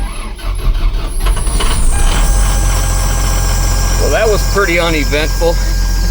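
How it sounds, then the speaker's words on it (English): A Cummins diesel truck engine that sat for years runs with a low steady rumble while a slipping belt lets out several rising squeals in quick succession, under someone talking. "We got something squealing. Sounds like it got a belt."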